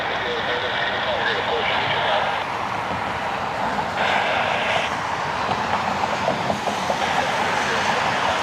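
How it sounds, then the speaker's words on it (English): A United Boeing 737 jet taxis to line up for departure at Cleveland Hopkins, a steady broad engine rumble and whine filling the whole stretch with slight swells, loud and continuous, with talk over it. "our first United 737 is about to line up for departure"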